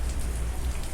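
Rain falling in a steady, dense hiss of drops on surfaces, continuous and moderately loud with a low rumble underneath, no voices present.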